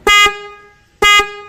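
A newly fitted car or bike horn gives two loud, short honks about a second apart, close by, with no talk.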